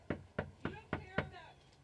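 Five sharp knocks on a door in quick, even succession, close and distinct, with a faint ringing tail after the last.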